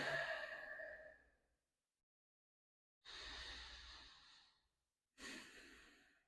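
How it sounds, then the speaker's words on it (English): Slow deep breaths during a yoga flow at the top of the mat, three long airy exhales separated by silent pauses, close and soft, with no talking. "Take a few deep breaths."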